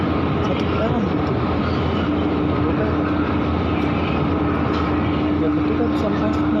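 A JR 205 series commuter train enters a station platform on a line bound for Rangkasbitung, producing a steady, loud rumble of wheels and motors with a faint hum throughout and no clear pause.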